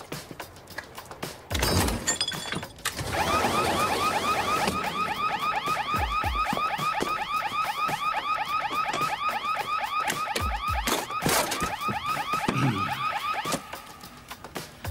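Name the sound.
car alarm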